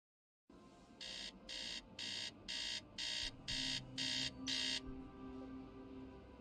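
An alarm clock robot in the video game Tales of the Neon Sea beeps eight times in an even rhythm, short bright electronic pulses over a low background hum, with no talking.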